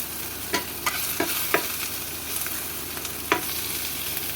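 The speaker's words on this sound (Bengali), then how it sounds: "আমি দিয়ে দেবো খানিকটা বেশ পেঁয়াজ দিয়ে ভালো করে আমি নেড়ে চেড়ে নেবো" Onions sizzle in a pan with a soft, steady hiss while a spoon scrapes and stirs them in a few short, sharp strokes.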